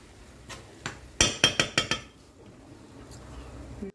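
A utensil stirring a fish fricassee mixture in a pot makes a quick run of five or six bright metallic clinks, with a few softer knocks before and after.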